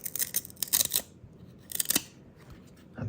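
Stuck basketball trading cards are peeled apart in a few short bursts of crisp tearing and crackling, close and fairly quiet, separated by brief pauses.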